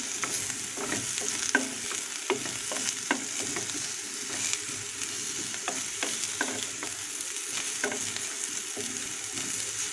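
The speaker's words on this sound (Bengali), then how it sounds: "আর এই কাঁঠালটা ভাজার কারণে খেতে আরও ভীষণ ভালো লাগবে।" Raw jackfruit pieces fry in hot oil with a constant sizzle, while a spoon stirs them with repeated scraping and clacking strokes throughout, close by.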